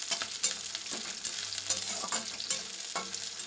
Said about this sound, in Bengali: তেলটা এখন গরম হবে, পেঁয়াজটা একটু ভাজা হবে